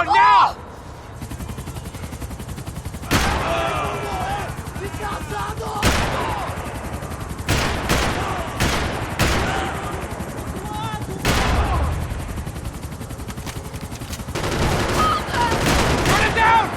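Heavy gunfire from the video game Max Payne 3, with repeated loud bursts and sharp shots scattered through a chaotic helicopter-chase action scene, along with engine rumble and characters shouting over the shooting.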